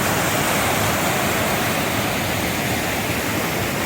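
Loafer Creek rushes in a loud, broadband roar of steady whitewater along the North Umpqua Trail, heard close and constant with no variation or voices.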